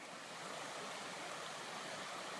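Floodwater pouring over a farm lake spillway and across rocks makes a steady, dense rushing roar that stays even throughout, with no voices.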